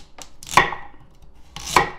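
Knife slicing a carrot on a cutting board while preparing a spicy skate salad: two crisp, close chopping strikes about a second apart, with quiet between them.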